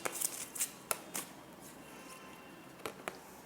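Tarot cards, Krishna consciousness deck, being shuffled and drawn: a few quick papery riffles and slaps near the start, one sharp snap, then quieter soft card handling with a couple of brief flicks at the end, no talking.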